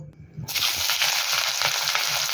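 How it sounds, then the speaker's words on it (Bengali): Onions dropped into hot mustard oil in a wok for a mung dal tadka burst into a loud, close sizzle that starts abruptly and holds steady with faint crackles. "এবার আমি পেঁয়াজগুলোকে ভেজে নেব।"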